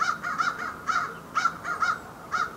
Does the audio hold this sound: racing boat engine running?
no